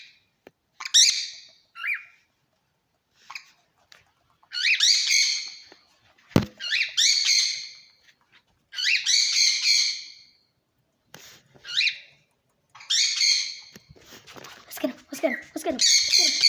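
Pet bird squawking indoors, a series of loud, harsh, close calls in separate bursts with quiet gaps between them, plus a sharp knock and some brief chatter near the end.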